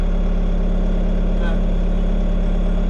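A JCB's diesel engine, known to burn a bit of oil, idles at a steady, unbroken throb. The low drone stays constant from start to finish.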